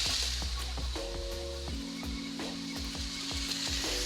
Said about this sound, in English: Let's just fry up some bacon and see how it tastes.